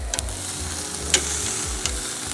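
Alligator kebabs sizzle on a hot grill in a steady, close frying hiss, with a few soft clicks and taps from the food being moved around.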